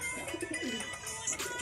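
A pet pigeon sitting on eggs at home gives a few soft, low coos, faint and close against a quiet household background.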